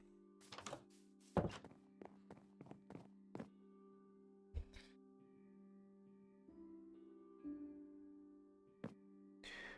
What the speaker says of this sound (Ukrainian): Я вже чую, як топають мої друзі.